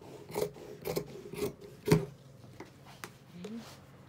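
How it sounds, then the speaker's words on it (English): Scissors cut through fabric lining in short crisp snips, a quick sequence of close, quiet rasping cuts with brief pauses between them. "So then you take your lining and cut out the same thing."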